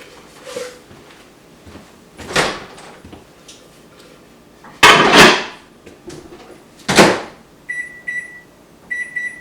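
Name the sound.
microwave oven running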